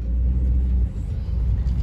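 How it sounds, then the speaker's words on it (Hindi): A car driven at night on a road between Mumbai and Goa in India, with a steady, close engine and road rumble that dips briefly midway, then carries on without voices. "बहुत टाइम बाद गाड़ी चला रहा हूँ वो भी रात को"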